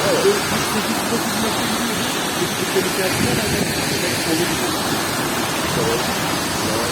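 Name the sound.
Tortum waterfall rushing water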